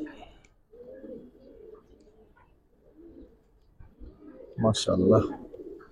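Giribaz pigeons of army, khaki and silver colouring coo softly while being handled, with a louder burst of cooing and flutter near the end; someone speaks briefly over them.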